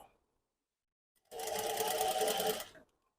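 A sewing machine stitches piping onto a blouse neckline in one steady, close burst of rapid mechanical whirring that lasts about a second and a half, with near silence before and after.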